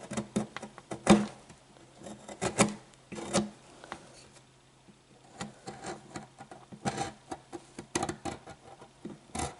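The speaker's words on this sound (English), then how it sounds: "I've gone around the edges with a knife." A knife cuts around the edges of a wooden violin part in a workshop, giving scattered short scraping and rasping strokes in irregular bursts, close and fairly quiet, with no talking.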